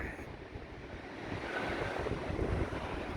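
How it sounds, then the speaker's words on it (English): On a rough sea at Blackpool, waves surge and wash continuously while gusting wind buffets the microphone, building slightly louder partway through, with no talk. "Let's have a look at the sea while it's a bit rough."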